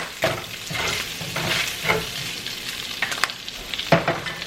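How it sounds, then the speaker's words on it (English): Turkey bacon frying in hot sesame oil, a steady close sizzle with crackling bursts and a few stirring scrapes throughout, with no talking. "A little bit of hot oil, sesame oil. And to that, I'm gonna go ahead and add half of my turkey bacon."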